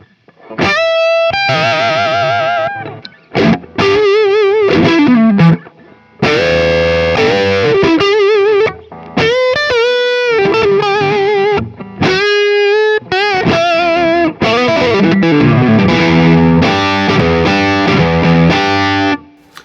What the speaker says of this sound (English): I can kick in, say, my tube screamer.